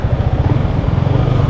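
A motorcycle engine idles close by, a loud, steady low rumble with rapid even pulses and no pauses.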